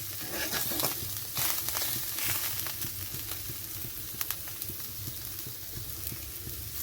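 Cauliflower leaves stir-fried in a pan for a vegetarian dish, a low continuous sizzle and crackle under frequent small clicks and scrapes of stirring, faint and steady throughout.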